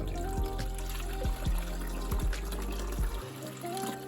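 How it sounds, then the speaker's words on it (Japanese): Water poured from a tap or kettle into a mucuna bean coffee mix, a continuous close trickling and gurgling stream that shifts in pitch as the container fills, with no one talking. "混ぜたコーヒーをあと水注いでね終 わりなんで、 水を投入で"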